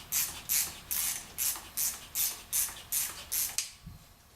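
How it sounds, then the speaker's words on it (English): Ratchet turning a camshaft bolt on a V8 Miata engine build, about eight evenly spaced, close clicking pulls in quick rhythm followed by a soft thunk. "it wouldn't ratchet like that if it wasn't started right"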